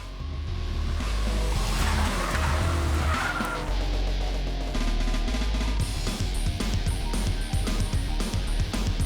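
A Volkswagen GT TSI hatchback laps a racetrack in India, its engine loud and close and its tires squealing and skidding through corners without pause.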